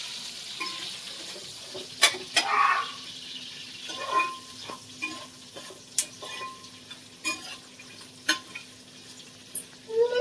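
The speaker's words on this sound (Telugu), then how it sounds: "బ్రౌన్ అండ్ గోల్డ్ కలర్ లోకి చేంజ్ అయ్యేదాకా మనం వేపుకుందాం" Sliced onions and green chillies frying in oil for coconut rice, a low steady sizzle broken by occasional sharp spoon scrapes and clinks against the pan, close up and with no voices.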